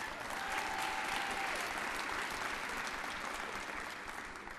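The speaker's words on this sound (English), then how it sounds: "Okay, we applauded for her too." An audience at a women's sports awards ceremony applauds with steady, dense clapping that holds for several seconds, then slowly fades slightly, filling a large room.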